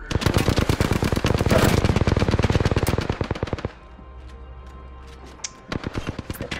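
Rapid automatic gunfire in the battle royale game Apex Legends, a dense, loud burst of shots lasting about three seconds, then quieter scattered shots and game noise before firing resumes.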